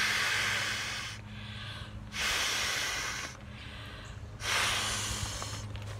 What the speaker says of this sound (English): since it's air, you just gotta blow it up. It takes about three breaths.